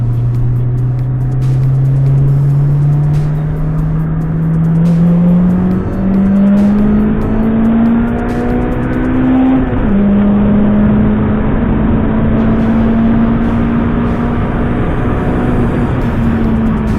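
Car engine pulling out to overtake another vehicle, a loud steady drone rising gradually in pitch as it accelerates, with a brief dip like a gear change before climbing again.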